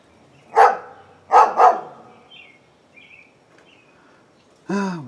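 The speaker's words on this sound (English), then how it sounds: "my neighbor's dog wants to bark and bark and bark" A dog barks three times at moderate distance, two barks close together, followed by quiet and then a short voice at the end.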